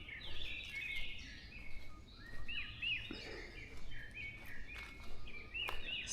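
Birds calling in a Korean forest on Bongseosan, several short chirps and whistled notes scattered over a steady outdoor background, moderately distant and fairly faint.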